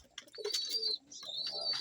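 A racing pigeon coos softly in its loft in two short phrases separated by a brief pause, quiet and close with faint chirps around it.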